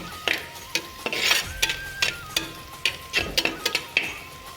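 Crushed ginger and garlic are stirred into sautéed onions in a pan for a fish curry. A spoon scrapes in repeated, rhythmic strokes close up over a faint sizzle.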